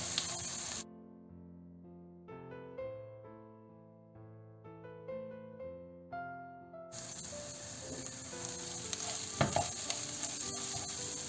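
Bulgur stirred into tomato paste in a hot pan gives a bright, crackling sizzle with stirring scrapes. It follows a stretch of soft tonal music that plays for most of the first half.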